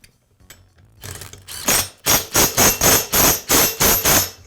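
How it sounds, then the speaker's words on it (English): An impact-style tool runs on an Echo blower during reinstallation of the flywheel and impeller hub, starting with faint clatter and building into about eight loud, evenly spaced rattling bursts close by. "Now I'll reinstall the flywheel and the impeller hub."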